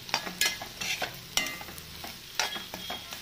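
Onions frying in oil with a pinch of salt in a soya curry, stirred with repeated scraping strokes in an uneven rhythm over a steady low sizzle, close up with no voices.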